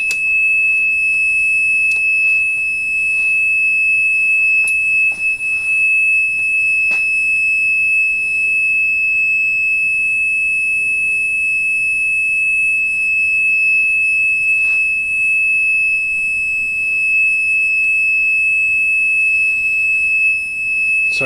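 An alarm beeps steadily at a constant high pitch during reloading of mm rounds on a Dillon XL press, loud and unbroken for the whole stretch, with faint clicks and handling noises underneath and no talk.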